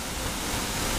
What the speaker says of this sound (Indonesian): Air terjun Tanjung Asap.